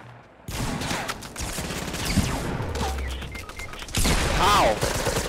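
Rapid P90 fire in a Fortnite match crackles in dense sustained bursts, loud and close, with game effects layered over it and a voice talking over the action.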